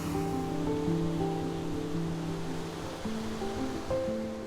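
The Qiantang River tidal bore advances as a steady, broad roar of rushing water, continuous and fairly loud throughout with tonal music layered over it.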